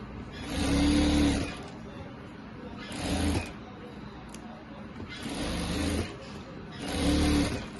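A sewing machine stitches the sides of a kurti in several loud whirring bursts of about a second each, separated by short pauses, close to the listener.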